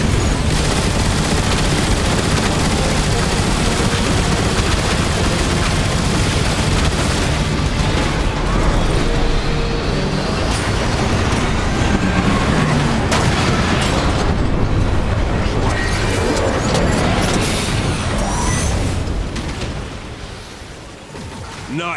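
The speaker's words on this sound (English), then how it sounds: "Nice shooting, Optimus." Dense gunfire and explosions from the Transformers: War for Cybertron video game, with rapid machine-gun bursts and heavy booms rolling continuously at close range and high volume, easing slightly near the end.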